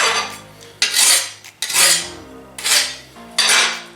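A deburring tool scrapes the edge of a steel sheet metal patch panel, giving four loud, harsh scraping strokes with ringing metallic resonance and short pauses between them, close up.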